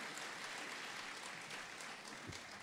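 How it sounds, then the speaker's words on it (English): Audience at a live local concert clapping, a faint, steady round of applause heard from a distance with no speech over it. "Maybe give him a round of applause because he needs a bit of encouragement."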